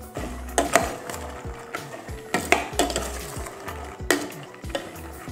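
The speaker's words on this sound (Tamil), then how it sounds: "நான் கிளறி விட்டோம்னா தான் உப்பெல்லாம் உள்ளே போகும் இல்லையா வேர்க்கடலைக்கு." A spoon stirs salted peanuts in water inside a metal pot, giving repeated scraping clinks and sloshing in an uneven rhythm, close and clear.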